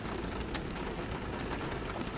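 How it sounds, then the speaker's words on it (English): Steady rain falls in a continuous, dense wash of noise, even and unbroken, with faint scattered drop patter and no talk. "let the rain carry you along"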